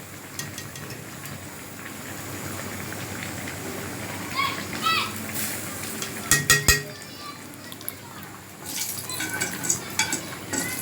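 A metal spatula scrapes and clinks against a pan as fried onions (beresta) are lifted out with the stove off, giving a few sharp taps and soft stirring noises over a faint background hiss.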